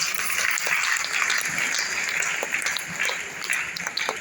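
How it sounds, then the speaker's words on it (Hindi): A crowd claps steadily for several seconds, a dense, sustained round of applause with no voices rising above it. "जोरदार ताली बजाएं"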